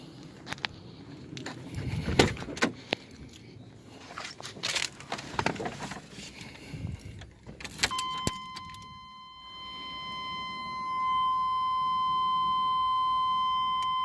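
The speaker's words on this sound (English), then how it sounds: "we're gonna hear also the cold start in the back of the truck, see how it sounds like" An LS 5.3 V8 swapped into a truck cold-starts after several seconds of clunks and knocks, then settles into a steady, loud idle with a thin whine riding on it, heard up close.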